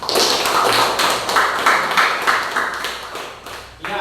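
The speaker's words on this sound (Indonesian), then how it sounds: "Tepuk tangan" A classroom of students claps hands together in a dense, lively burst of near, sharp claps lasting several seconds before trailing off.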